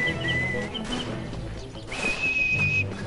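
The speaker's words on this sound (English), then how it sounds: "Trench whistle blowing." Trench whistles shrill in the World War I shooter Verdun, one short steady blast followed by a longer, louder one, sounding over battlefield rumble and distant gunfire.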